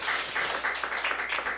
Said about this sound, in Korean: 상현이도 오랜만에 왔으니까 박수 한번 쳐주시기 바랍니다.